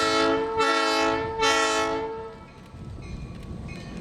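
Chicago and Illinois Midland 30, an RS1325 diesel locomotive, sounds its horn in two loud, close chords, followed by the rumble and clatter of the engine and rail cars.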